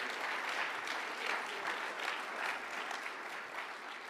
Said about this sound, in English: Good time to clap.